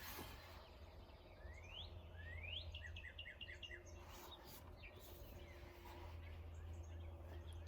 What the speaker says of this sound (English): I hear our birds visiting us behind us.